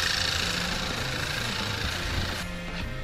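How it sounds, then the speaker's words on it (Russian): A Volkswagen Golf VI engine from the 2009–2013 range, with 72,000 km on it, runs at a steady idle with an even mechanical hum and faint ticking, close and constant throughout. "Работа мотора отлично, ошибок нету."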